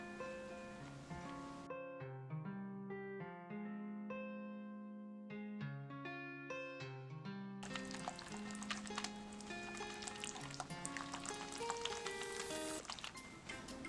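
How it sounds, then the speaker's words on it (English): Background music plays at first, then a whisk churns blue food coloring into cake batter, giving a busy, wet, sizzling swish for the last several seconds that grows fairly loud over the music. "I'm just whisking this in."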